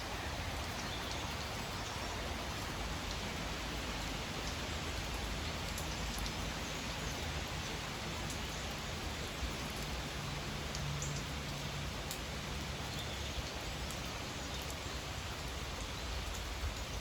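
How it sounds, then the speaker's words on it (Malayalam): Steady, dense rain falls continuously at a New York farmhouse on a cool day, a constant even hiss of drops on surfaces with no voices or breaks. "അത്യാവശ്യം നല്ല മഴ പെയ്തുകൊണ്ടിരിക്കുക"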